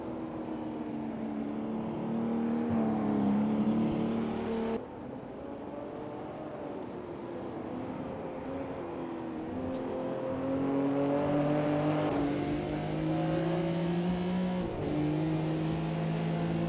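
Race car engines in the GT Classics racing video game, a continuous loud droning roar with pitch rising and falling as cars accelerate and shift, several engines layered together, no talking.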